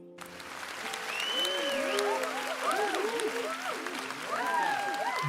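A cheering crowd sound effect swells and holds steady, with bright whistle-like chirps and rising and falling whoops layered over dense applause, plays over a live Pokémon Celestial Guardians card pack opening.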